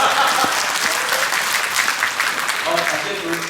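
An Easter church congregation claps in loud, steady applause that fills the whole stretch, dense and close with no pauses, while faint voices run underneath.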